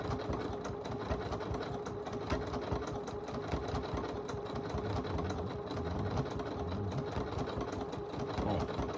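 A sewing machine stitches a poinsettia table runner with a steady, close, unbroken mechanical whir that runs on without pause.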